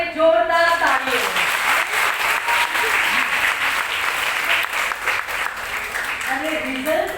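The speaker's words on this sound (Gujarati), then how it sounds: "એ સૌને માટે જોરદાર તાળીઓ" Strong applause from a large audience of Gujarati students at a Gujarati-language event for Mother Language Day and the poet Narmad's birth anniversary, dense and sustained throughout, with a voice heard faintly at the start and end.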